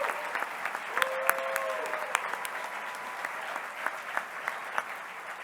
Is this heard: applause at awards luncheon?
yes